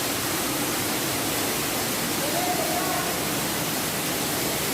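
Dense, unbroken rush of a large waterfall inside a cave in Quirino Province, loud and enveloping with steady broadband spray, with faint talk under it.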